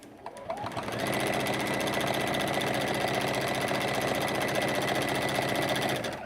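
A sewing machine stitches scrappy fabric for mini baskets, starting with a few short bursts before settling into a steady, fast mechanical whir that runs close and moderately loud, then stops.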